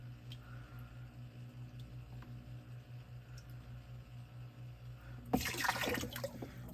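A garden hose pours water into a reef aquarium tank to top it off, a sudden splashing gush starting near the end over a steady low pump hum.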